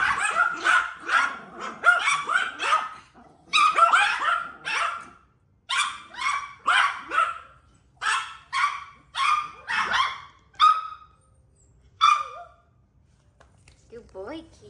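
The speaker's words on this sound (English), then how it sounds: "so that's why they're barking a lot" Several Yorkie terriers bark repeatedly in close, sharp bursts, some overlapping into yips, reacting to a new pet water fountain indoors; the barking comes in rapid clusters with short pauses between.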